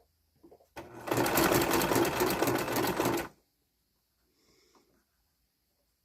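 A sewing machine stitches a top, running in one steady close buzzing burst of about two seconds, with quiet handling sounds before and after.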